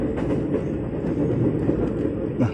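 Tokyo Metro 6000 Series commuter train pulling out of Sudimara station on the Rangkasbitung line, a continuous low rumble with faint rhythmic rail clacks, close and steady.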